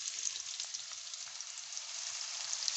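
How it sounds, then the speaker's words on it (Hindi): Onion is frying in half a cup of oil for a mixed vegetable dish, making a steady, faint bright sizzle with a few soft scattered bumps and no speech. "मैंने हाफ़ कप ऑयल डाला है और उसमें ये प्याज डालूँगी।"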